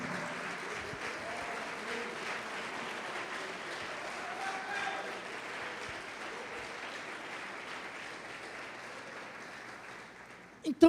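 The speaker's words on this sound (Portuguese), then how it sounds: "Quem pode aplaudir a Deus?" Church congregation applauding during a sermon, a sustained wash of many hands clapping at moderate distance for about ten seconds, fairly even throughout, with a sharp louder burst at the very end.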